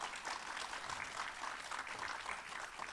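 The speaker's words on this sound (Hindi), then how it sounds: "एक बार जोर से तालियां हो जाएं" Conference audience at a disability media panel breaks into applause, a continuous, fairly quiet and distant patter of many hands clapping with no talk on top.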